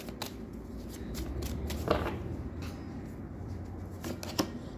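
Tarot cards are shuffled and drawn by hand, a run of quick riffling flutters and soft card slaps, close and fairly quiet, with no speech.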